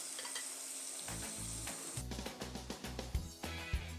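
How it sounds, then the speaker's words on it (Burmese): Garlic sizzles in hot oil with a bright, continuous hiss, while a spatula scrapes and stirs the pan in quick, rhythmic knocks close by. "ကဲစီလေးပူလာပြီဆိုတော့ကြက်သွန်ဖြူလေးလေးစီတတ်ပါမယ်နော်"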